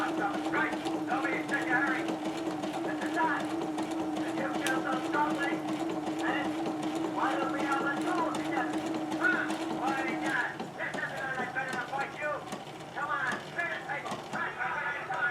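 A Husqvarna sewing machine stitches the second side of a buttonhole with embroidery thread, a steady rapid mechanical clatter that changes and eases near the end, with a voice speaking at times over it.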